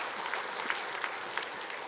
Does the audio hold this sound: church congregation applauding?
yes